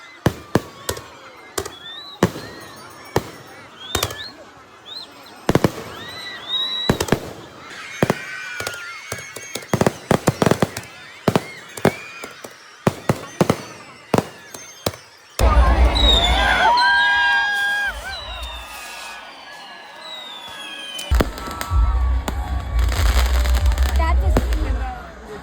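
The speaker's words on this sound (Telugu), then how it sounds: "ఈ ఫైర్ క్రాకర్స్ అన్ని కూడా ఒక్కొక్కటి ఒక్కొక్క స్టైల్" Sankranthi firecrackers and fireworks go off in Konaseema, sharp bangs popping in an irregular string, then two long crackling bursts of rapid explosions, with a crowd cheering and people shouting nearby.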